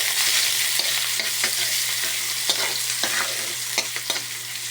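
Garlic and onion sauté in hot oil in a wok, a steady close sizzle broken by intermittent scraping stirs and clinks, with no talking.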